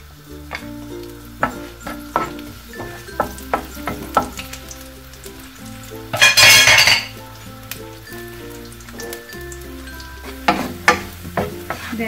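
Garlic frying in hot cooking oil in a pan, a loud hiss rising for about a second mid-clip over soft clinks of utensils, with steady background music throughout.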